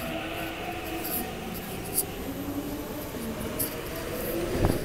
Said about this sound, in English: And here comes our train to Admiralty here.